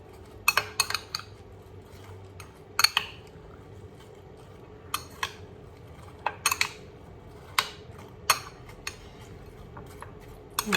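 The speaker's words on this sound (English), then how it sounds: "I'm just going to give it a good stir to mix everything up." Metal utensil clinking sharply against a bowl while stirring watermelon soup ingredients, a dozen or so irregular close taps and scrapes over a quiet background.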